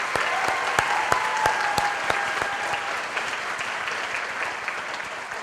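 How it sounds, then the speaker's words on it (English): A pageant audience claps for the participants onstage at a scholarship program, sustained applause with a few sharp, distinct claps standing out near the front, gradually easing off toward the end. "So let's give all of our participants one more round of applause."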